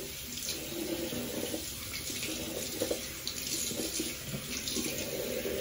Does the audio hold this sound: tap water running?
yes